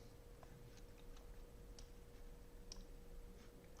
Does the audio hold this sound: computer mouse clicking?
yes